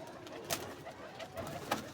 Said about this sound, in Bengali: এটা জোড়া মাদি পায়রা